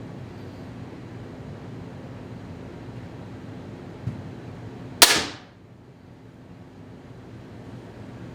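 A TenPoint Nitro XRT crossbow fires once with a single sharp snap and a quick fading thrum, heard over steady outdoor background noise.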